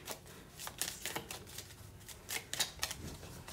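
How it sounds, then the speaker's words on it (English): A deck of 44 tarot cards being shuffled by hand, a series of close, papery riffles and slaps in uneven bursts, with no talking. "Let me shuffle this time really, really good."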